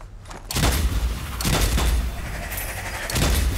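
Gunfire from the video game Strange Brigade, shots aimed at crates: several loud, sharp bursts at uneven intervals ring out over a steady low rumble of game ambience.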